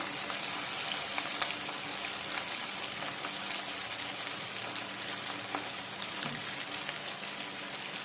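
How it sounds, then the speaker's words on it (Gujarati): Raw potato snack pieces deep-frying in hot oil over a medium gas flame give a steady, dense crackling sizzle with scattered pops, close and continuous throughout with no talking. "તો મીડિયમ ગેસની ફ્લેમ હોય ત્યારે આપણે આ નાસ્તાને તળીશું."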